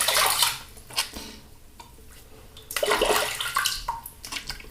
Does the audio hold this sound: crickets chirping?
no